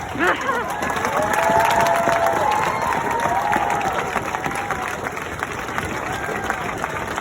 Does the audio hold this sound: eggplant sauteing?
no